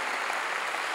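A church congregation claps together during a sermon, a short burst of dense, even applause filling the room without any break.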